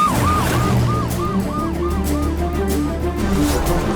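A wailing ambulance siren cycles up and down repeatedly over a deep rumbling vehicle engine, close and loud.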